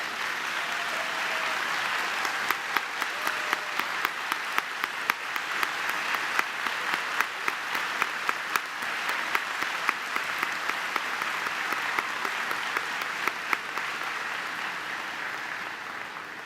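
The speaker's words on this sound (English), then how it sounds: "please stand and give a round of applause for this outstanding group of individuals" Sustained applause from a standing audience at a university legacy celebration ceremony honoring staff, a steady wash of many hands with scattered sharper nearby claps standing out, continuing evenly throughout and fading slightly at the end.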